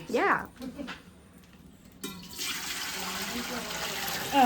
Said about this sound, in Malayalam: ഇതില് നമ്മള് കുറച്ച് വെള്ളം ഒഴിച്ചേക്കും